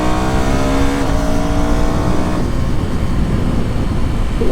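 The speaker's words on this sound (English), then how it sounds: "The Husqvarna Vitpilen 250." Husqvarna Vitpilen 250 café-racer motorcycle engine running close and loud, a steady revving drone whose pitch climbs and shifts, filling the whole stretch without any talk.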